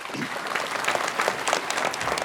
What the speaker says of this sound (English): Let's give Megan a round of applause.